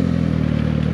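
Suzuki GSX 750 four-cylinder motorcycle engine revving loudly and close, a steady harsh drone with a rapid pulsing beat, with no voices over it.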